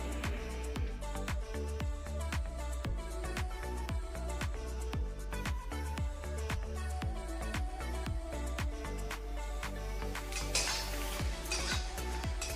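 Whole spices such as fennel, black pepper, dried chillies, bay leaf, cinnamon, cloves and cardamom dry-roasting in a pan, with repeated sharp clinks and scrapes of a utensil against the metal and a light crackle beneath.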